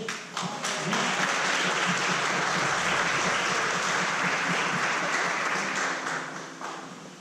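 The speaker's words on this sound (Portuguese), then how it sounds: "A gente vai aplaudir e exaltar o nome do Senhor essa noite." Church congregation applauding during a Sunday family service, a brief sharp start then a full, steady wash of clapping that holds before tapering off at the close.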